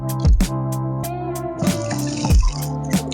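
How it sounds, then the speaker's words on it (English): Water is poured into a potting soil mix, splashing and trickling in short bursts with a few drips, close by, with some bumping and handling noises between pours. "Then the next step is adding water to our mix."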